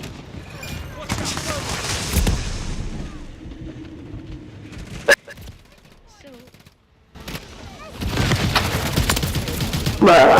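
Call of Duty gunfire in rapid automatic bursts, with a single loud sharp report near the middle and a short quiet gap before heavy firing resumes, dense and close, with a voice speaking briefly.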